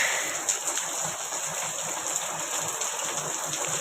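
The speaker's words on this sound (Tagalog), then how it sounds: "Ulan talaga. Ulan na kasang ulan." Heavy rain pours down in a steady, dense hiss of drops striking surfaces close by, unbroken and without talk.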